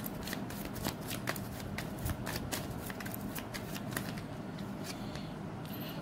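A deck of tarot cards is shuffled to draw one, giving soft, continuous riffling and flicking with sharper card snaps, close and fairly quiet.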